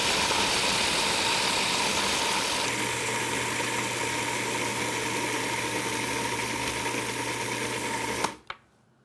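A kitchen appliance motor runs loudly and steadily, close by, its pitch shifting to a lower, fuller hum partway through as almond mixture is processed, then cutting off abruptly near the end.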